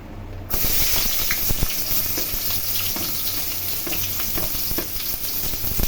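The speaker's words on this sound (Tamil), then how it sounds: "வெங்காயத்தை ஆட் பண்ணிக்கலாம்." Chopped onions sizzle and fry in hot oil in a pan, a steady close crackle with occasional stirring clicks, starting abruptly after a brief quiet moment and continuing without talk.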